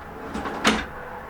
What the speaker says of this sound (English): Check out these soft shut drawers.